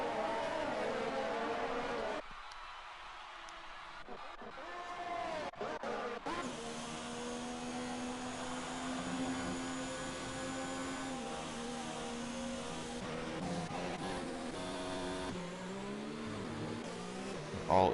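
Race cars in a sim racing broadcast accelerate along the track, giving a continuous whining engine drone with rising and falling revs and brief dips as cars pass.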